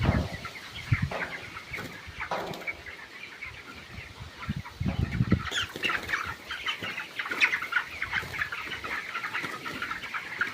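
Chickens fill a partitioned poultry farm shed with steady overlapping clucks and chirps, joined by occasional bursts of wing flapping, heard fairly close and continuous throughout.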